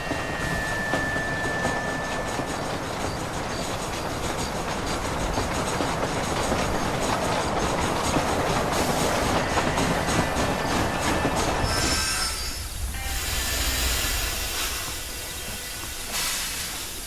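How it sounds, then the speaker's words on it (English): A train rolls steadily along rails in the Red Dead Redemption video game, a continuous loud rumble with squealing wheels and clacking, dropping to a quieter hiss after about twelve seconds. "is it just gonna be John and the train for the whole way?"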